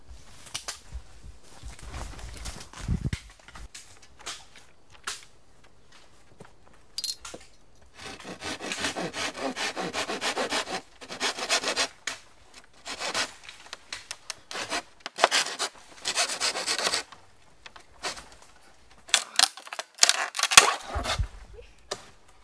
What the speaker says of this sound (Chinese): 拿锯子。 去给它砍